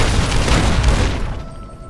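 A loud, close explosion in the video game Fallout New Vegas, a heavy boom with rumbling debris that fades over about two seconds, with no talk.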